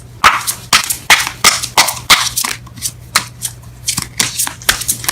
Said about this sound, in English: Just one card for each. Whoa. Let's try that again without the cards exploding.